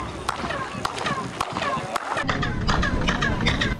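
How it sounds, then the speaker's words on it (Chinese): Handclaps in front of the Kukulcan pyramid at the Maya ruins of Chichen Itza, Yucatán, Mexico, each sharp clap followed by a chirping echo like a bird call, repeated several times amid background voices. "还以为拍手传回来的声音也会是拍手声"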